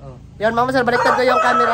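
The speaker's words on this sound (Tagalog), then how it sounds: "Ayan yung manok ko mga master" A rooster crows loudly and close by in a Filipino outdoor setting, a drawn-out harmonic call that rises and holds. Someone speaks before and over it.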